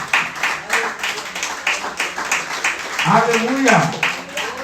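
A church congregation claps steadily at a Nova Vida service, the applause running under a preacher who shouts an exclamation of praise over it.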